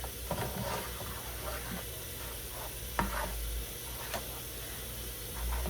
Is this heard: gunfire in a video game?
no